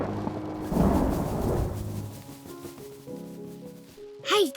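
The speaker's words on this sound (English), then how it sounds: "It was thunder." Thunder from a storm rumbles loudly at the start and fades over a couple of seconds, followed by soft tonal children's-show music and a brief rising cartoon-like tone at the end.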